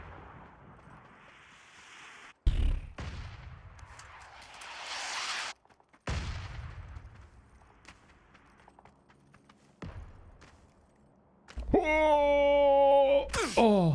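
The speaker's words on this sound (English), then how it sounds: "that's my mortar" Mortar fire in the video game PUBG: several heavy, booming impacts spaced a few seconds apart over a rumbling battlefield, ending with a loud sustained electronic tone.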